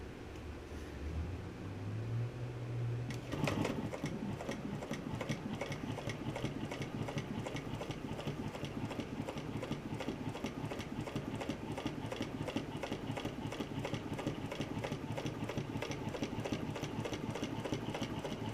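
A Juki walking foot sewing machine stitching car upholstery starts with a low whir rising in pitch, then settles into a fast, steady mechanical clatter that runs continuously and close up, with no talk.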